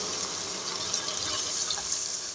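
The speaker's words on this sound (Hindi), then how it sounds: "अब इसमें मैं थोड़ा सा पानी डालूंगी" Water pours steadily into a pan of frying chicken liver masala, a continuous close hiss and splash filling the short moment with no talk.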